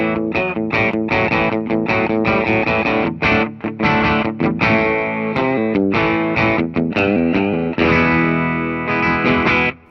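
Gibson Les Paul Professional electric guitar played through an amp with a distorted rock tone, a steady run of dense chords and riffs sounding loud and close with no talking.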